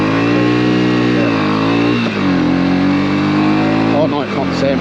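A car engine rises and falls in pitch as a vehicle passes close by on a road, a steady loud drone with a swell midway, heard from a motorbike rider's position.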